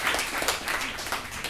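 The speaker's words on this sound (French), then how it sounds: "Monsieur Pierre Fontaine, que vous pouvez aussi applaudir" An audience applauds at a conference, a brief burst of scattered, moderately loud hand clapping from a crowd that fills the short moment without talking.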